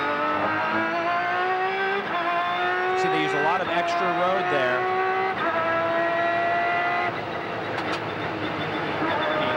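A 2002 IMSA Grand-Am race car on an outlap at Fontana drones steadily from onboard, its engine pitch sliding and shifting through corners while a commentator talks over it.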